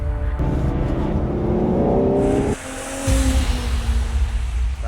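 A Ferrari Roma Spider on cold weather tyres runs nearby, its engine droning and rising, cutting out sharply midway, then returning with a tyre squeal and rising revs.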